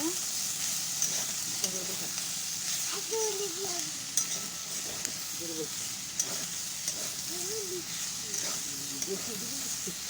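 Potol chola, pointed gourd with chickpeas, sizzling and frying in a pan with a steady bright hiss and occasional scrapes of stirring, while a voice talks faintly underneath.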